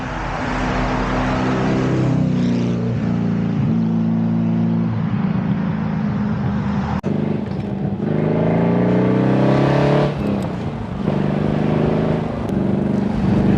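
A Ginetta G33 sports car engine revs and accelerates loudly and continuously, its pitch climbing through gear changes, close and sustained with no talking.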